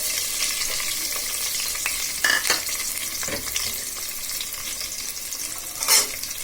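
Chopped onion, garlic and green chilies frying in hot oil in a pot for a taro and shrimp curry, a continuous soft sizzle broken by a few stirring scrapes and clatters, close by with no talking.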